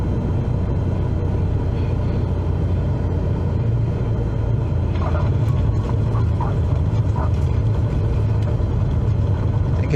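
A simulated aircraft in Microsoft Flight Simulator 2020 lands and rolls along the runway, giving a steady low rumble and engine drone with faint rattles partway through and no talking.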